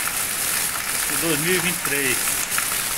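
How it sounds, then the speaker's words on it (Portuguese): Steady broadband rain falls in Porto Alegre during a thunderstorm, a constant close hiss filling the whole clip while someone talks over it. "chuva aqui em Porto Alegre"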